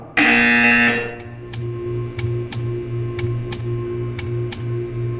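Portal 2 game buzzer: one loud, harsh electronic buzz lasting about a second, then a steady run of sharp, evenly spaced ticks over a low hum.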